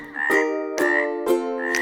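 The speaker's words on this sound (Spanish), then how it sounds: "la rana hace" Cartoon-style frog croaks in a children's animal song, three or four evenly spaced bright, tonal croaks with strong harmonics, loud and close, with no talking over them.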